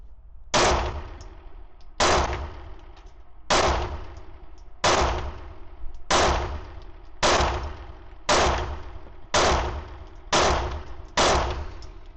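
Ten sharp, loud pistol shots from a Sig P211 GTO ring out at 20 yards, spaced evenly about a second apart, each followed by a short echoing decay.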